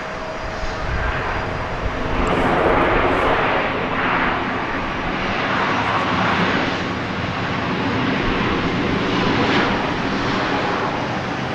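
Boeing 737 Max 8 jet airliner landing at Dallas Love Field, a loud sustained engine roar that swells and holds steady for the whole stretch, heard from a nearby spotting spot without talk.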